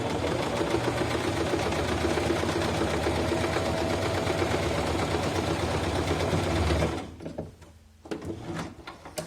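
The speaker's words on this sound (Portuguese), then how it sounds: "eu vou passar uma costurinha, então, de pesponto aqui em cima, pra ela não ficar se embolotando" A sewing machine topstitching the fabric of a coin purse runs in a loud, steady, close whirring rattle for about seven seconds, then stops, leaving a few faint handling clicks.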